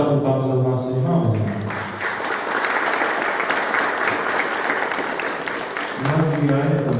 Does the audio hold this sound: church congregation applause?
yes